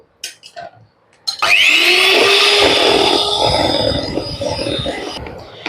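Watermelon juice being beaten into an ice cream mixture, heard as a loud, steady whirring drone that starts abruptly after a few soft knocks, runs for several seconds and then cuts off.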